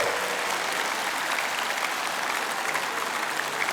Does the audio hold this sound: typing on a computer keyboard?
no